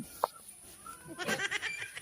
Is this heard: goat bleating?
yes